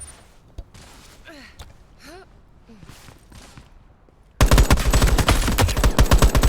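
Gunfire in the video game Veiled Experts: quiet stretches of soft voices and movement give way abruptly to loud, rapid, sustained automatic shooting that fills the final couple of seconds.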